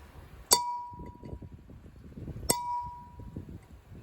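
Two sharp metallic strikes about two seconds apart as a punch drives a bearing race into a Ford/New Holland tractor front axle hub, each hit ringing bell-like and decaying over quiet shop background.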